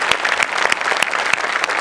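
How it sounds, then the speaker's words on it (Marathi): Enthusiastic audience applause at a Marathi comedy show: dense, steady clapping from a crowd, loud and sustained across the whole stretch with no voices over it. "आपल्या शो करता एकदा जोरदार टाळ्या वाजवूया"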